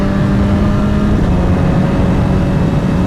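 A 2016 BMW S1000RR motorcycle screams at high revs while being ridden, the engine loud, close and unbroken, with wind rushing over it.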